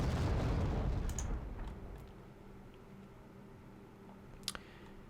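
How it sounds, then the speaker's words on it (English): Artillery fire in the Wargame: Red Dragon game set in the Second Korean War: a heavy distant boom that rumbles out and fades over several seconds, then a faint sharp pop near the end. "Probably artillery, yep."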